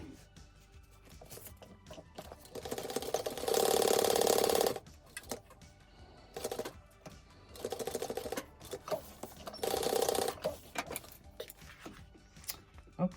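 A sewing machine stitching along the bottom of a canvas pencil case in several loud, steady whirring bursts separated by pauses and small handling clatter, close up.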